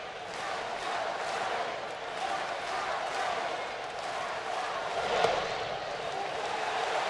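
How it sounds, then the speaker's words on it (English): A big baseball stadium crowd at a Phillies at Braves game on their feet, giving a broad, sustained roar of cheering that swells slightly near the end, with voices under it. "Big crowd on their feet trying to help out."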